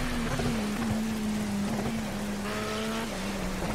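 The Marek RP 219D LMP2 race car in Project Cars holds a steady, droning engine note at constant revs, loud and continuous over a rough road hiss with a few faint tire noises.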